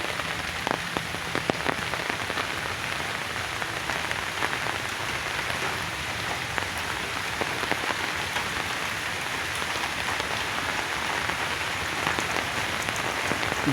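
Rain pours continuously on a residential street lined with houses, a dense, close patter on surfaces with scattered sharper drops that holds at a steady level throughout, with no speech.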